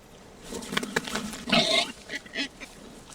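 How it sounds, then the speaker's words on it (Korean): Wild boars in a primeval forest valley on Mount Jiri grunt and snort while feeding, a close cluster of rough, irregular grunts over faint background rustle. "다른 멧돼지들이 냄새를 맡고 몰려들기 시작하는데"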